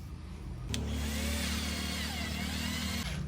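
A power screwdriver drives a screw into a multiwood kitchen panel: one steady, loud motor whir starts abruptly, runs for about two and a half seconds, then cuts off.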